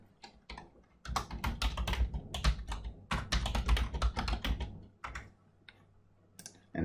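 Fast clattery typing on a computer keyboard, close and clear, in bursts of quick keystrokes with a brief pause midway and a few isolated taps at the end; no voices.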